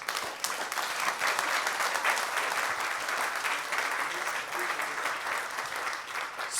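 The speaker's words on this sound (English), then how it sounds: "How about a round of applause for our panelists?" A conference audience gives its panelists a sustained round of applause, many people clapping steadily for several seconds, moderately loud and even, with no speech over it.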